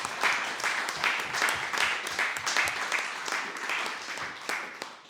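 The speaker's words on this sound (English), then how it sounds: "can we please give a big round of applause for Dr." Steady audience applause at a post-election roundtable on Germany for a departing panelist, a moderately loud wash of many hands clapping throughout without a break.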